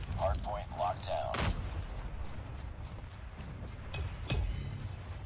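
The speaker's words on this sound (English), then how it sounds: "The airstrike from Nox is so good." Airstrike explosions in the video game Call of Duty Mobile, heard as two heavy booms near the middle and end of the clip over a continuous rumbling game mix, with a commentator talking over the start.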